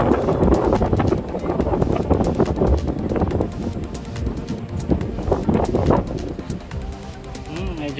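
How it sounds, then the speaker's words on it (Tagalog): Strong wind buffets the microphone in loud, continuous rumbling gusts on a new bridge walkway between Binondo and Intramuros, with people talking underneath throughout. "Medyo malakas lang yung hangin ngayon."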